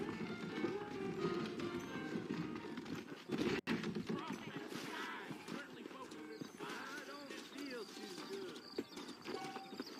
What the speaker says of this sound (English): I got the horses set up and ready out front.